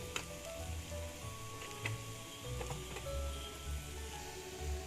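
Gongura leaves frying with chili powder in a pan give off a steady, soft sizzle, with a few light ticks and scrapes from stirring, close by and without talk.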